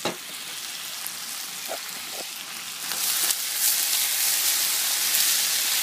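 Onion and garlic frying in a pan while being stirred, a steady close sizzle that swells louder partway through, with a few soft scrapes of the spoon and no talk.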